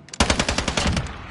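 Rapid automatic gunfire from a newly acquired gun in a video game, about a dozen sharp shots in a quick burst that cuts in after a brief pause and fades with a short tail, loud and up close with no talk.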